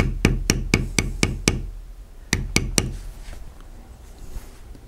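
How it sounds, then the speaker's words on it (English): Light taps from a leather beveling tool struck along the edge of a carved oak leaf, sounding as a quick run of six close, crisp knocks, a pause, then three more, leaving faint room noise. "Just use little light taps there on the edge of your oak leaf."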